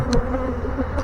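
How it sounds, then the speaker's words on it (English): A swarm of honey bees hums loudly and close in a continuous, droning buzz with wavering pitch, a couple of brief clicks or thumps breaking through the steady hum. "bunch of bees"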